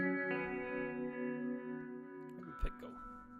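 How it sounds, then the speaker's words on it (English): Guitar played through a Botanist pedal with reverb engaged, sustained ringing chords with a wash of effect trailing behind, then a brief pick scrape and muffled knock near the end. "Set this reverb."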